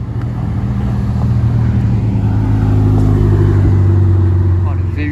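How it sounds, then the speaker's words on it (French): A naturally aspirated V8 car revs loudly and close by at a gathering of Ferraris and other sports cars, its deep note rising and holding in strong sustained bursts. Voices can be heard faintly beneath the engine. "Oh, le V8 Atmo les gars."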